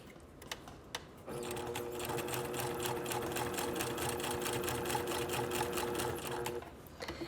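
A sewing machine runs a straight seam up a pressed piece of fabric. A few soft clicks come first, then about five seconds of steady, rapid motor-driven stitching nearby, before it stops with more small handling sounds.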